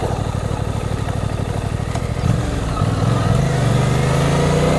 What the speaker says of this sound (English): that's on tick over now, and that's just trundling along 12 mile an hour